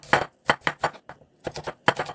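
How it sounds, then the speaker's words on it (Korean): A knife cuts onion into very fine julienne strips on a cutting board, giving a series of crisp, close taps in an uneven rhythm, some single and some in quick pairs, with no talking. "그러니까 아주 곱게 채를 쳐주세요"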